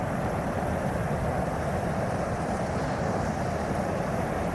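Steady, dense rushing wash of a waterfall beside Shadow Creek on the John Muir Trail, a continuous broadband roar close by with no voices.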